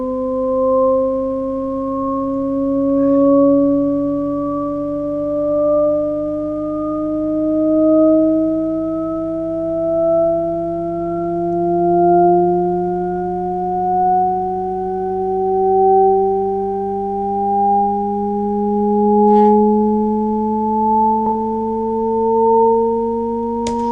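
Several steady synthesized tones in Ableton Live glide slowly upward together in an endless rising Shepard tone illusion, smooth and sustained, with a gentle pulsing swell throughout.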